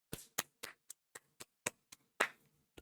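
Hand clapping in sparse, uneven bursts, about ten sharp claps spread over a few seconds, fairly close and alone with no talk.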